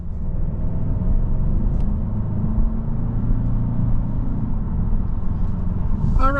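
A 2025 Genesis G70 2.5 Turbo Sport Prestige sedan cruising on the road, heard from inside as a steady, close low rumble of engine and tire noise, with a brief voice at the very end.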